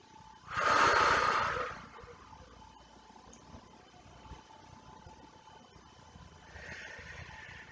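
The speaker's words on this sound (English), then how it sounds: "Take a couple of nice deep breaths." A person doing post-natal pilates takes a long, loud, close breath, then a quieter, shorter breath follows after a pause.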